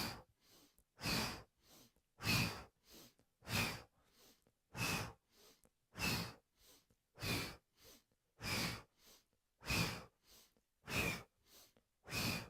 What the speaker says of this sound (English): So inhale right, exhale left with an O shape.